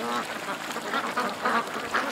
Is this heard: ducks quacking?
yes